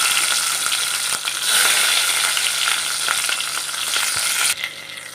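Crushed garlic and green chili hit hot oil with mustard seeds and cumin, a loud close sizzle with crackling pops and spoon stirring that eases off near the end.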